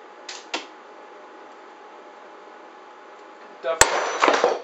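A Forespar Marelon 93 Series through-hull valve fails under a destructive pressure test of more than 700 pounds. After a quiet hiss, one sudden loud crack is followed by a short burst of spraying and rattling.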